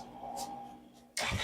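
A Honda CRF250R dirt bike engine catches abruptly after an oil change, a sudden loud burst that follows a quieter stretch of hum and faint clicks.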